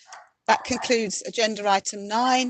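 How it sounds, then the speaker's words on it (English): A dog barks briefly at home during an online full council meeting, a quick sound at the very start before someone speaks steadily over the rest. "excuse my dog"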